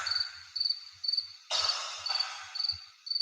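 Crickets chirp in regular rapid pulses, a steady repeating trill that sounds close and clear, with a louder burst midway and no voices.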